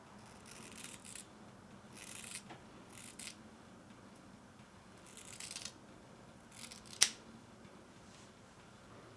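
Scissors snip through straightened hair being layered at home, a series of quiet, close crisp cuts in short bursts with one sharper snap near the end, otherwise a hushed room.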